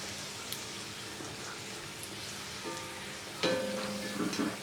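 Puri frying in hot oil for aloo puri, a steady dense sizzle that swells into a louder bubbling hiss as the dough hits the oil, close and continuous.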